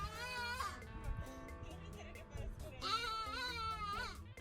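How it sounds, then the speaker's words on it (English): Goats bleating from the branches of an argan tree on hot, dusty ground, several wavering calls rising over steady talk and background noise. "There's a bunch of goats hanging out in a tree."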